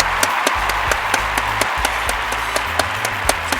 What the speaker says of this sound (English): I want you guys to join me in giving an applause for Barack Obama